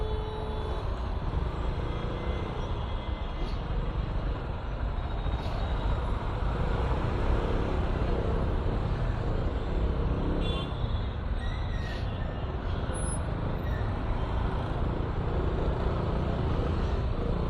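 A jammed road carries a dense, steady roar of cars, trucks and buses, close and continuous, with no clear individual passes or horns standing out.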